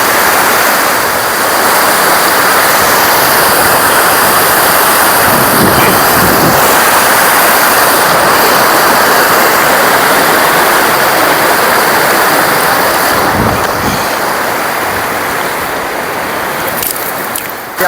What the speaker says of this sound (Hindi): क्योंकि नदी में बहुत सारा पानी है।